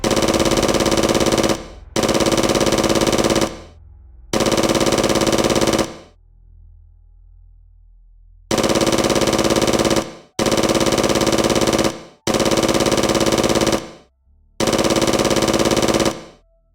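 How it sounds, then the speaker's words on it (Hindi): Bursts of cartoon AK-47 automatic gunfire, loud and close, firing in seven long sustained volleys separated by short gaps, with a longer pause midway. "उसने AK-47 निकालकर फायर कर दिया"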